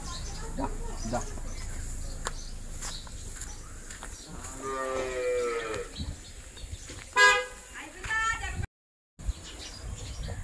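Punganur bulls, a miniature cattle breed, moo at a farm in Rajahmundry, with two drawn-out calls midway under steady outdoor background noise while someone talks nearby.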